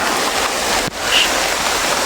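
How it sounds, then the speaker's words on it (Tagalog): Heavy rain pouring down outdoors near banana trees, a dense, steady broadband hiss that fills the whole clip with a brief dip in the middle, loud and close with no talk over it. "Lakas ng ulan, mga tol, oh."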